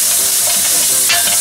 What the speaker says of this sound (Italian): Sfumiamo con un boccetto di vino bianco